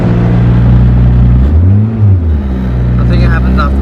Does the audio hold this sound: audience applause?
no